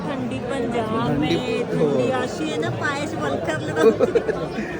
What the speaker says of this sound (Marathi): गर्दी तर भरपूर आहे इकडं